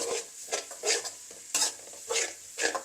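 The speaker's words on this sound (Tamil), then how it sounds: "இப்போ இஞ்சி பூண்டு பேஸ்ட் கொஞ்சம் சேர்க்குறேன் சேர்த்து அதையும் நல்லா வதங்க விடுவோம்" Ginger garlic paste sizzles and fries in butter in a pan while being stirred, with steady frying hiss broken by repeated scraping strokes of a spoon, close and fairly loud, no voices.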